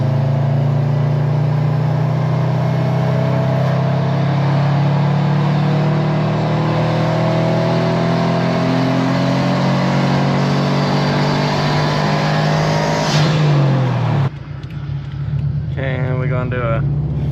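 Subaru WRX running E85 climbs slowly through the revs under load, a steady engine drone rising in pitch for about fourteen seconds before cutting off abruptly to quiet cabin noise and a voice.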